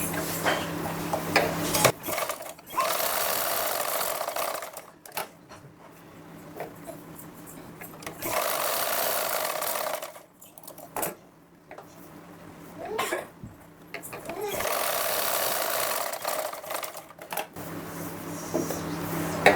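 A domestic sewing machine stitches darts on a lined blouse in several sustained whirring runs of a few seconds each, broken by short quiet pauses while the fabric is adjusted.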